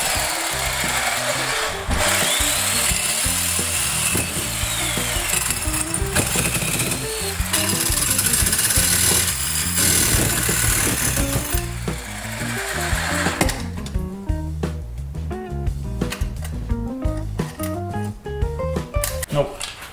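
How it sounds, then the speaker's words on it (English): A jigsaw fitted with a metal-cutting blade saws into copper, producing a loud, continuous buzzing rasp for several seconds before it turns into choppier, stuttering cutting noises. "I'm going to use a jigsaw with a metal cutting blade."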